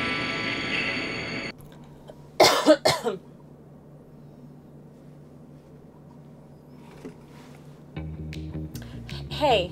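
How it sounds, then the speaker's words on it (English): A person coughs two or three times in quick succession, close and sharp, after music cuts off; a voice begins speaking near the end. "So I've got this cough a little bit"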